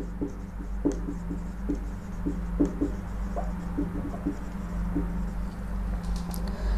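Marker or chalk strokes on a lecture board in a quiet room, a run of short scratchy taps and squeaks in irregular bursts over a low steady hum, close and fairly soft, with no talking.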